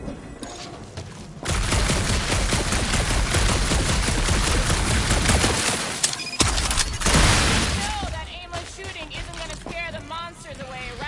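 Sustained gunfire in the PS5 game Guardians of the Galaxy on a dark monster planet, a dense loud fusillade with booms lasting several seconds, then a brief pause and more bursts as a voice talks over it.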